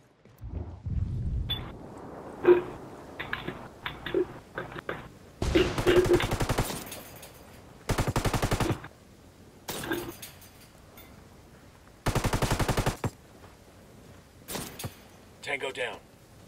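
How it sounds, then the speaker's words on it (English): Heavy automatic gunfire in Ghost Recon Wildlands, a tactical shooter game: several loud, sustained bursts of rapid fire lasting about a second each, separated by short pauses, with a player talking over and between the shots. "Taking heavy fire here."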